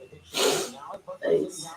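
A single sharp sneeze bursts out close by, followed after a brief pause by a quieter breathy exhale and a short spoken reply.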